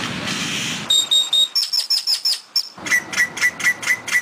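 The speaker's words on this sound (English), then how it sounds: "They sound like a slide whistle, murmurs, clucks, chirps, and even weird robot noises." Grackles giving a series of sharp, whistling, metallic calls, repeated short notes in quick rhythmic bursts with a noisy rush at the start, loud and close.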